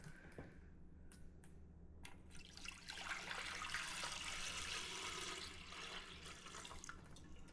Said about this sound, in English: so I'm just going to use a bit more water